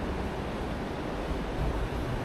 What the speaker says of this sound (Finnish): Tuolta kuuluu jotain veden ääntä. Mä en tiedä onko se toi koski vai mikä se on.